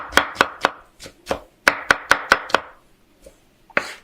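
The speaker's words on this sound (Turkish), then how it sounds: "öncelikle soğanımızı doğruyoruz. Şöyle ince ince." An onion being chopped finely with a knife on a board, close and crisp, with a quick run of sharp, regular strikes, a short pause, then a few final cuts.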